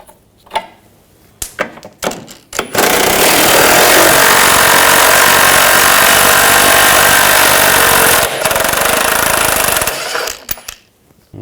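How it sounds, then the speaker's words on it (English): A socket tool with a 15mm socket runs on the nuts of an underbody bar on a 2013-2019 Ford Escape during a catalytic converter job: a few short bursts, then one loud, continuous whirring drive lasting about seven seconds before it stops. "use a 15mm socket. Take these nuts off."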